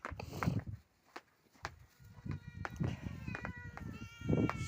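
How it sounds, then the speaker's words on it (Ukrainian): Cats meow several times, thin drawn-out cries mixed with scuffling and soft footsteps nearby, the calls fairly quiet. "Подивіться, скільки мене котиків."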